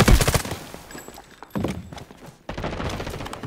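Bursts of gunfire from the Delta Force video game crack and rattle in quick volleys, loud and close, separated by brief gaps, with no voices audible.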